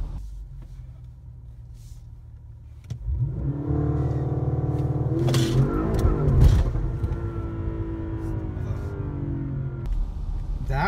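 A 2016 Audi S6 idles low, then launch control kicks in and the engine roars loudly, climbing through revs with a brief shift spike before settling into strong sustained acceleration.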